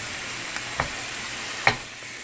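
Ground turkey frying in a hot pan with green onions, a soft steady sizzle broken by a few sharp spatters and stirring clicks, close up and with no talking.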